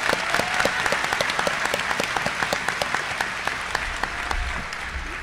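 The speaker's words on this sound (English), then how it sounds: "Let's give Jarrett a big round of applause." An audience at a 2018 high school graduation ceremony claps steadily for a graduate, a dense continuous wash of many hands at even loudness throughout, fading slightly near the end.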